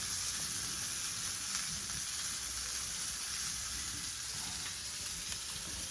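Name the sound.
saundale fish frying in a pan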